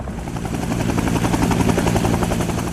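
Military helicopter in flight over Vietnam-era combat terrain, steady rotor chop and engine roar filling the whole span, loud and continuous with no voices.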